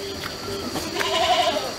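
Goats in rural Nepal bleat close by, a couple of nasal, wavering calls rising over faint background noise, the last one longer and louder.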